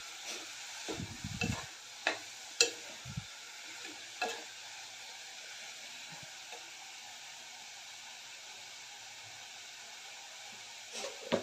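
Cabbage sautés in a pressure cooker as a soft, steady sizzle runs throughout, broken by a few scattered scrapes and knocks of a spoon stirring against the metal pot, quiet and close.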